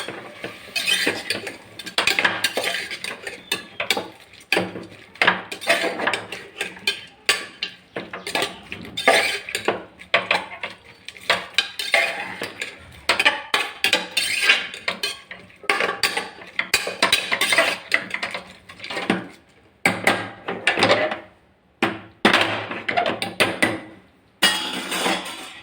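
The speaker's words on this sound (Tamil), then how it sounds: "மஷ்ரூமு, நல்லா மிக்ஸ் பண்ணி விடலாம்." Mushrooms being stirred in a metal cooking pot for pulao, with repeated scraping and clinking of a utensil against the pot in an irregular rhythm, fairly close and loud, with no talking.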